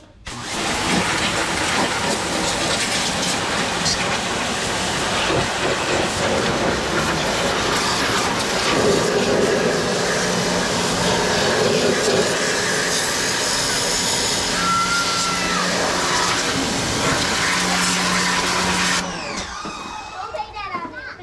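A pressure washer fitted with a turbo nozzle runs steadily at close range as a loud, continuous broadband hiss and roar, cutting off near the end; it is used on a Ford 3.8 V6 supercharged engine.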